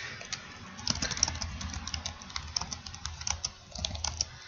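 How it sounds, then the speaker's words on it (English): Typing on a computer keyboard while writing a story in a kids' creative tool, a close, quiet patter of uneven key clicks in short bursts and pauses, with no voice. "You can type in your story."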